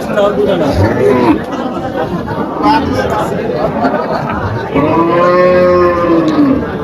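Cattle and calves at a livestock market lowing in long, loud moos, a clear one near the end, over constant crowd chatter and nearby talking voices.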